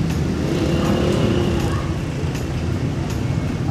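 A Rusi KR-Y 200 motorcycle idles through its stock exhaust pipe, giving a continuous low rumbling engine drone that holds steady and close for several seconds with no talking.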